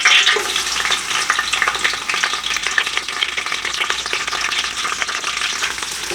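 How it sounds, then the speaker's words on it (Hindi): Chopped onion and crushed garlic sizzle and crackle steadily in hot oil in a pan, fried only until the onion changes color, with occasional stirring scrapes; continuous, close, and fairly loud. "प्याज को हमने ब्राउन नहीं करना, बस इतना ही फ्राई करेंगे कि इसका कलर चेंज हो जाए"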